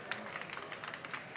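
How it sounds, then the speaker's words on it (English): Steady applause from an audience at a chef's cooking demonstration, a dense patter of many hands clapping at even loudness throughout. "a big round of applause"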